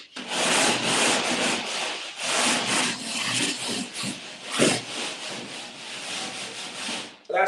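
A rasp scraping along the edge of a drywall board in steady back-and-forth strokes, a close, dry, gritty rubbing that continues for several seconds.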